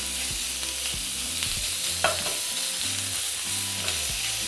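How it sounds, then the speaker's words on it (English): Bacon frying in a pan for a chicken jalapeño popper tater tot casserole gives a steady, broad sizzle, with low rhythmic clatter and a brief scrape of a utensil partway through. "we're going to allow our bacon to cook for 5 minutes"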